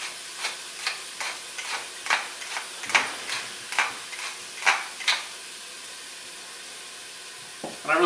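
Garlic frying in oil for a faux chicken curry pho, a steady sizzling hiss broken by regular stirring scrapes about every half second, close and moderately loud, with no talking.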